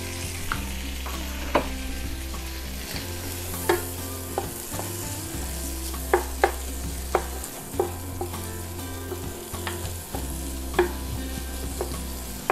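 Streaky and diced bacon crisping in a pan, a loud continuous sizzle broken by repeated sharp scrapes and clacks of stirring, close and without talk.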